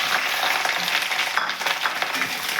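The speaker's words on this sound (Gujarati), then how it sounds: "ડાયરેક્ટ આપણે મરચાં નાખી દેવાના છે." Chillies fry in hot oil with no cumin or mustard seeds, a close, steady sizzle with dense hissing crackle that runs unbroken throughout at an even loudness.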